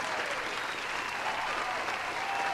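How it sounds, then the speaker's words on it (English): A round of applause from a crowd, steady clapping throughout at a moderate, even level. "And here is your round of applause."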